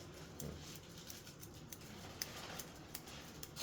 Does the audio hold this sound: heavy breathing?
no